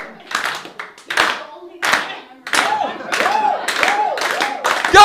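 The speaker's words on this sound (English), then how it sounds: "Slow clap." An open-mic stand-up comedy crowd claps in a slow, spaced rhythm that builds into faster applause with cheering, close and fairly loud, with a voice talking over it.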